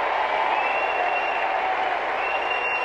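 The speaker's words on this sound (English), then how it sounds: "So, clapping." Audience applause fills the room at a comedy podcast taping, a steady dense wash of clapping held at an even level for the whole stretch, with no voices standing out.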